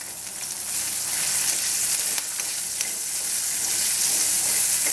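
Beans, broccoli, kale and green chilies tossed in a hot pan, giving a steady close sizzle with soft stirring scrapes and clatters throughout, no talking.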